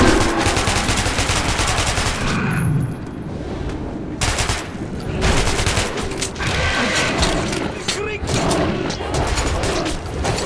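Rapid bursts of gunfire crackle continuously, dense and loud, with a few brief pauses between volleys of shooting in the video game Metro 2033 Redux.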